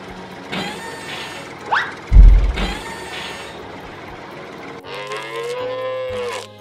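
Cattle on a farm let out several long, drawn-out moos one after another, loud and close, with a low thump partway through.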